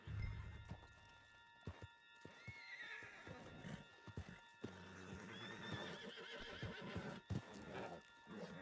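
A horse in Red Dead Redemption 2 whinnies with rising, wavering cries while its hooves clip-clop in an irregular rhythm, with sharp thumps and scuffs scattered between, fairly close and clear.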